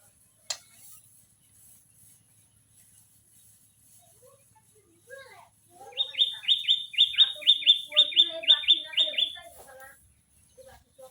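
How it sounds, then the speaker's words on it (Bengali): Birds chirp in a quick series of bright, repeated tweets in the latter half, fairly close, following a quiet stretch with a single knock early on. "এখন সময়টা অনেক ভালো, পাখির কিচির মিচির ডাক শোনা যায়।"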